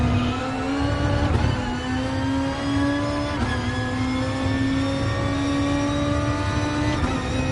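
A race car at Laguna Seca in Gran Turismo Sport, its engine holding a steady, loud drone with a steady pitch, broken by brief shifts and small surges as it runs on.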